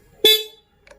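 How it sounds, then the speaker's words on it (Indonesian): A single short, loud beep from the horn of a Yamaha NMAX Neo S scooter, sounded close by in a quiet setting during an electrical check, with a faint sound just after. "klakson"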